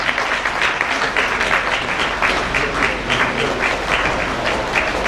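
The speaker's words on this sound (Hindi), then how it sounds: "तो जोरदार तालियां सर के लिए" Loud, sustained clapping from an audience honoring a guest at a Unity Day event, a continuous dense patter of many hands that holds steady from start to finish.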